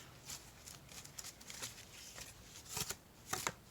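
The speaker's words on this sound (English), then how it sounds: "I'll shuffle this chakra deck." Cards riffled and shuffled in several quick bursts, soft papery flutters close by, with a louder riffle near the end.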